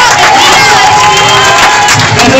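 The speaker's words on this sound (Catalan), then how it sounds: "Un fort aplaudiment per ella." Loud, close audience cheering with whoops and shouts for an event coordinator, a dense roaring crowd filling the short moment, with applause mixed in.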